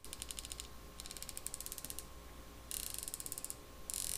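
Turret adjustments on a Vector Everest GEN 2 3-18x50 SFP riflescope, heard as rapid runs of crisp, evenly spaced mechanical clicks in several bursts with short pauses between, close and clear against a quiet background.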